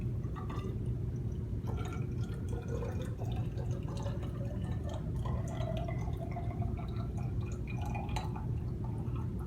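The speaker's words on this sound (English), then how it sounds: "I'm going to carefully pour 100 milliliters in here" Kool-Aid being poured slowly into a lab beaker to measure 100 milliliters: a faint, steady trickle of liquid with scattered drips and small glassy ticks over a low background hum.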